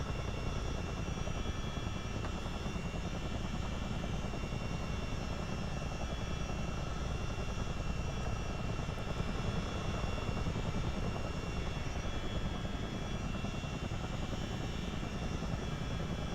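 A CH-47 Chinook helicopter flies at low level near Brampton, producing a continuous, even roar of rotors and engines. The drone is fairly quiet and steady throughout, with no talking.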